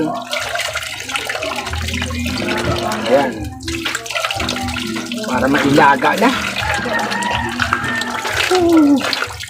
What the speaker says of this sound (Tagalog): Ang lakas ng tubig dito